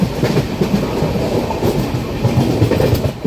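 The 22618 Intercity Superfast Express from SMVT Bengaluru to Tirupati runs along with a steady rumble and rhythmic clickety-clack of wheels over rail joints, heard loud and close from on board, with no talking.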